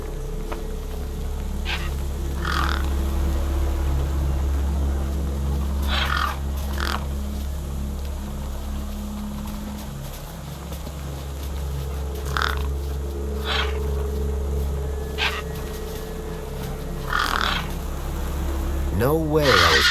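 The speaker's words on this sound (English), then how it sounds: "No way I was going to get between those birds and their feast." Crows in the video game Beyond a Steel Sky give short harsh caws at intervals over a low steady drone, some near and some farther off, with a rising electronic tone at the end.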